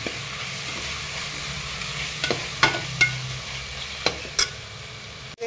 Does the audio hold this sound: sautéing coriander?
yes